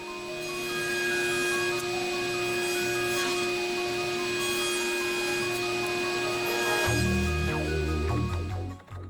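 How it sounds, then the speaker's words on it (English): A table saw chamfers the top of a kitchen island, its blade whining in a long, steady cut with a loud mechanical hum, then a heavier rumble as the cut ends and the saw spins down. "I'm also going to chamfer the top, and I'm doing that on my table saw."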